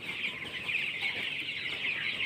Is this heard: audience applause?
no